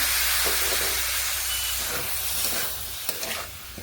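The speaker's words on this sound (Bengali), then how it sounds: "এগুলোকে একটু মশলার সঙ্গে ভালোভাবে কষিয়ে নিচ্ছি একটুখানি জল অ্যাড করছি" Winter vegetables sauté with spices in a pan, a steady steamy sizzle with soft stirring scrapes, easing slightly in the last second.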